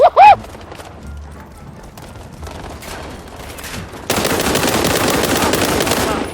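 Rapid automatic gunfire from the video game World War 3 bursts in loud and sustained partway through, after a short vocal sound and a quieter stretch of game noise.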